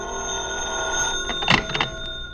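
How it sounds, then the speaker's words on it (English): A telephone bell rings in a 1950s-60s radio mystery drama, with short clustered ringing bursts over a steady humming background and no talking. "The kind of a look that tells you the phone will be ringing soon."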